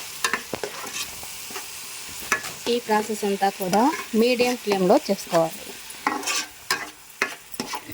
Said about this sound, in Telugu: టమాటా గ్రేవీని కూడా అందులోనే వేసి ఇది కూడా పచ్చివాసన పోయేంత వరకు బాగా వేయించాలి